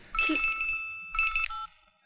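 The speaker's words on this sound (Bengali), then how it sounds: "নীলের ফোন" A phone ringtone plays a bright electronic melody in two short bursts with a pause between them, set in a Bengali film scene, clear and close with no voices over it.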